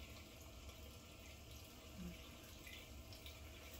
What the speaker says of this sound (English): I'm flicking the water over to cold now, so let that run cold while I'm doing this.